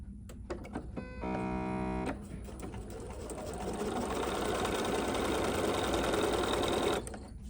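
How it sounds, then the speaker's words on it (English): A Bernina 770 Plus sewing machine, Kaffe Fassett Special Edition, stitches steadily via its start-stop button, a brief high whir first, then a sustained mechanical hum and rattle that stops abruptly, with no talking over it. "I'm going to be using the start-stop button here on my Kaffe Fassett Special Edition Bernina 770 Plus."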